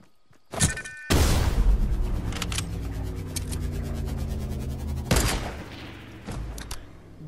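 Sniper shots in Fortnite Battle Royale ring out as loud, sharp cracks with a long echoing tail, with a few quieter shots and clicks between them.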